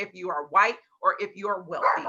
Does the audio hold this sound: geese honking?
no